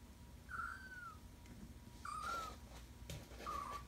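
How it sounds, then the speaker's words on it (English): A kitten with physical issues, lying on a yoga mat, gives three thin, drawn-out mews spaced about a second apart, faint and close, with no talk over them. "That's not really a pain meow. That's like a leave me alone."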